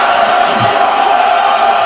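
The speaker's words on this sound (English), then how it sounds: "let's hit the clap button" A loud, short burst of canned crowd cheering and applause is triggered as a sound effect backstage, a steady roar of a crowd with no break, lasting about two seconds.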